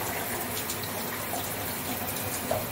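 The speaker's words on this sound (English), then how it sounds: "you reach up and you turn the shower on" Water from a home shower pours in a steady, even hiss that stays constant throughout, close by and moderately loud, with no talking.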